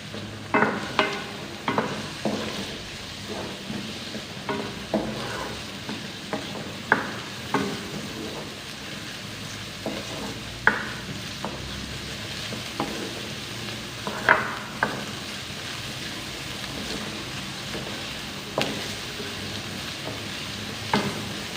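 Onions frying in a pan for gobi chicken, a steady sizzle broken by repeated spatula scrapes and clinks at irregular intervals, close and fairly loud throughout.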